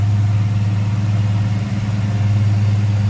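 A 1978 Chrysler Cordoba two-door with T-tops idles with its hood open, a loud, close, smooth low rumble holding steady with a brief slight dip midway.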